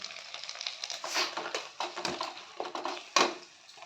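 Chopped tomato dropped into spices frying in a pan for a kohlrabi kofta curry, giving a close, crackling sizzle with scattered pops and a sharper burst near the end, with no talking.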